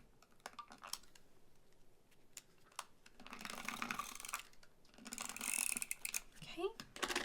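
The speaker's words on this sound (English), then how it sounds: "Add some tape runner." A tape runner dispenses adhesive tape onto a handmade Christmas card, giving short clicking and rolling bursts with faint rasping strips, quiet and close amid light handling noises.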